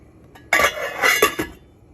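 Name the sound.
pot being covered with its lid while cooking dal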